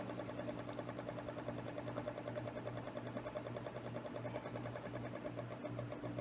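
A steady electric motor hum runs at reduced speed, close and continuous with a constant mechanical whir and no voices.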